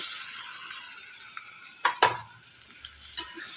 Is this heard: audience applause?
no